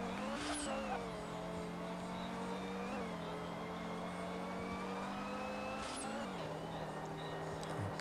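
Drag-tuned car engine in the Real Drift racing game, a steady sustained drone holding a high gear with a couple of brief pitch shifts like gear changes, loud and continuous with no talking.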